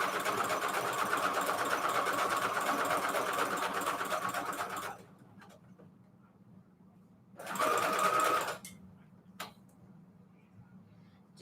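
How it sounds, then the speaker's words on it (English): A sewing machine stitches a zigzag seam around a vellum pocket in a steady whirring run of several seconds. After a short pause comes a second brief burst of stitching, followed by a few faint clicks. "Let's sew zigzag all the way around."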